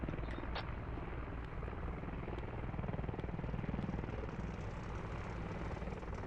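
Military helicopter flying low over a field in a combat video game: a loud, steady rotor thump and engine drone, continuous throughout and close, with no voices.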